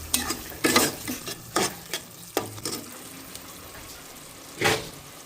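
Prawns being stir-fried for Bengali chingri bhuna give a loud sizzle in the pan. A spatula scrapes and stirs in repeated bursts, with brief quieter gaps between strokes, and nobody speaks.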